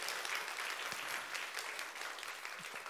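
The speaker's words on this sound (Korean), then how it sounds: "우리 박수 치고 한번 칭찬하고 넘어갈까요?" A church congregation at a Korean Sunday worship service claps together, a soft, distant-sounding patter of many hands that stays fairly even and tapers slightly toward the end.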